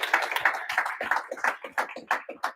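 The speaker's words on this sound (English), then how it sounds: "That deserves a clap." A small group claps at a preaching event, with quick, uneven claps in a loose rhythm, fairly close and moderately loud, lasting a couple of seconds.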